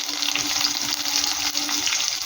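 Onion frying with dried chillies in a pan, a loud, dense, continuous sizzle close up with a low steady hum beneath.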